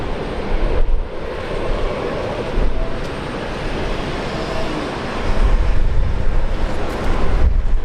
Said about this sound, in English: the special livery Fokker 100 that celebrates Charles Kingsford Smith